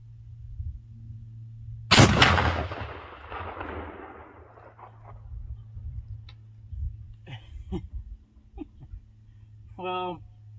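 A single loud muzzleloader rifle shot cracks out from a porch, a sharp blast with a decaying rumble, followed by someone talking quietly afterward.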